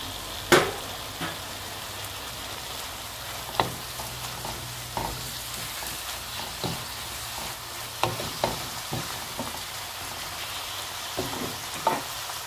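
Minced meat filling with vegetables, parsley and spices sizzling steadily in a pan, with occasional sharper spatters and stirring scrapes over a continuous hiss, no talking.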